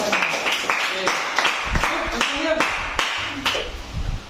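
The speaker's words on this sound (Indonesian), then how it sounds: "Tepuk tangan untuk teman-teman." Seventh-grade students clap their hands together in a classroom, a run of sharp, rhythmic group claps with voices calling out among them.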